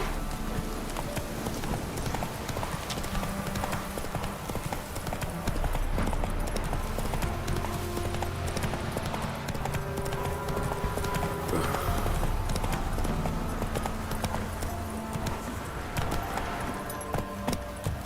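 The horse Roach galloping in the video game Witcher 3, a loud, continuous rhythmic drumming of hooves with jingling tack, sustained throughout.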